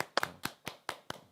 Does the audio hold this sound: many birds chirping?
no